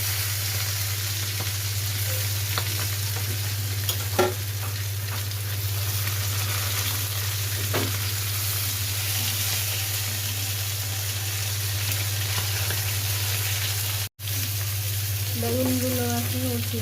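Eggplant slices fry in hot oil with a steady, even hiss over a low hum, with a couple of faint clicks and a brief murmur of voice near the end.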